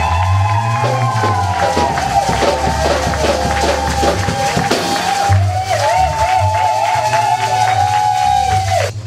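Church congregation cheering and acclaiming, a loud sustained crowd roar with whoops and high ringing voices running continuously for about nine seconds.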